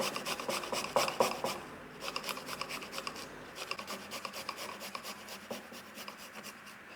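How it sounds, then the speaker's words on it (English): Garlic cloves are grated into a paste with rapid, rhythmic rasping strokes, close and moderately loud, slowing slightly toward the end. "So I have here about 5 to 6 cloves of garlic, which I'm gonna grate"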